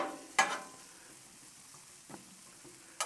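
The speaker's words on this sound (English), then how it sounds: "Kind of let these sit here and just saute a little bit." Vegetables saute quietly on a Blackstone griddle in leftover butter, seasoning and ribeye juices, giving a faint low sizzle broken by a few sharp spatula scrapes or taps.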